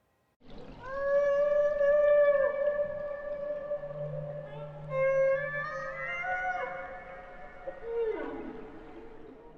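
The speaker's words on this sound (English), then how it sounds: "Whenever I hear whales communicating" Whale song from wild whales in coastal waters: long rising and falling tonal moans and whistles, several overlapping calls that sweep and bend, clear and fairly loud for about nine seconds with no talking.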